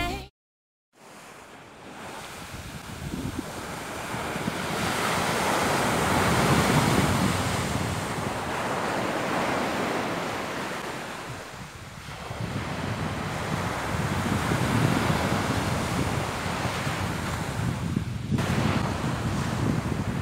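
Winter sea waves on Cleopatra Beach in Alanya, Turkey, with steady surf roaring and swelling in broad washes, heavily buffeted by wind noise on the microphone, no voices.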